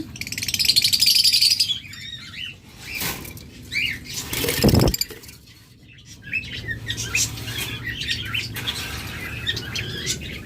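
Caged lovebirds give bursts of sharp chirps and twittering calls, with quick wing flaps and a loud flutter in the middle, close by and without talk.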